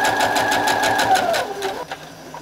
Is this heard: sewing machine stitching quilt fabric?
yes